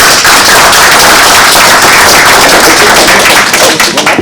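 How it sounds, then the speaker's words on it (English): Loud, sustained applause from a workshop audience, dense clapping filling the whole stretch without letting up. "another round of applause"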